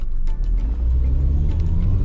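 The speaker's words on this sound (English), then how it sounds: "So put the car in drive, we're gonna speed up to 20 and stop when I say stop" A car accelerates from a stop to about 20 mph on a Florida driving road test, its engine giving a steady, close, mid-pitched rumble and whir that builds gently, with no talking over it.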